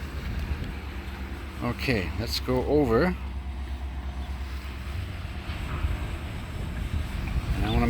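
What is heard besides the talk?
wind blowing outdoors during drone flight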